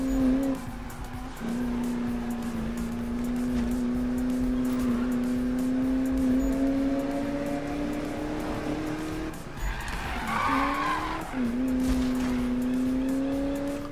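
Need for Speed racing car: a steady high engine whine holds for several seconds, then tires squeal and skid briefly as the car slides and recovers, the engine note returning.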